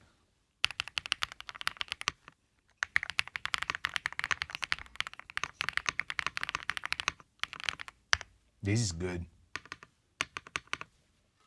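Typing on a new computer keyboard close to the microphone, a fast, dense run of clicky key presses in bursts with short pauses, one brief thump mid-way, and a few words spoken between bursts.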